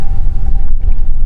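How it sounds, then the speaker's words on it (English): Wind buffets a microphone out on open water during fishing, a loud, continuous low rumble that swells and dips, with no talking. "before this wind blows us off"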